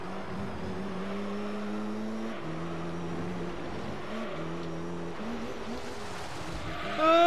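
Race car engine in Gran Turismo 3, a Camaro-class machine droning at high revs with repeated gear shifts and dips, ending in a rising tire squeal as the car runs wide onto the grass.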